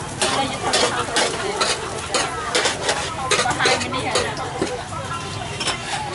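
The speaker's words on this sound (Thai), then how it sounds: "ผัดเส้นต่อ เส้นนี้ผัดไปแล้วส่วนหนึ่งแล้วมาผัดไหม" Noodles for Khmer pad thai stir-fried at a Siem Reap street stall, with busy clattering spatula strokes against the pan over a constant sizzle, close up, while voices talk nearby.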